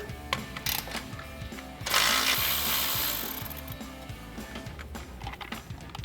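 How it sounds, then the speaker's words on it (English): A 10 mm socket on a ratchet wrench loosens a brake line bracket bolt on a 2014-2020 Ford F-150, giving rapid, even clicking pawl ticks close up, with a brief rushing burst partway through. "we can grab a 10 millimeter socket to remove our bolt"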